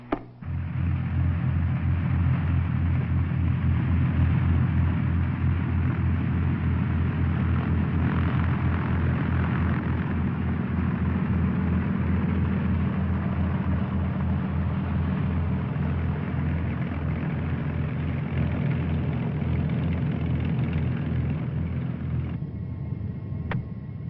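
A Commander light aircraft taxis to the ramp at dusk. Its steady, loud propeller and engine drone holds a low throbbing pulse throughout, with no talk.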